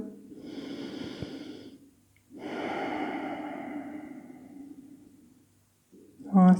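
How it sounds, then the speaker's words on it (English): Slow, audible breaths are taken during a yoga pose with the forehead resting on a block. Two long exhale-like breaths come up close and fairly soft, separated by a brief pause. "you can just breathe here"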